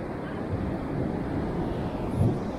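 Ocean waves wash steadily on a Bali beach in the morning, a soft continuous surf rumble with a slight swell near the end, with no voices.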